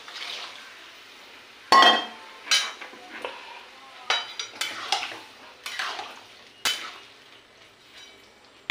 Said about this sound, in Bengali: এবার সেদ্ধ করা চানাগুলো ঢেলে দিচ্ছি।